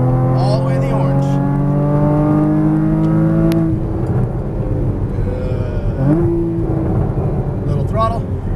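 Porsche Cayman GTS on a race track at Las Vegas Motor Speedway, loud engine note climbing steadily through the revs under full throttle, a gear change, then another rising pull, with an instructor's voice heard alongside.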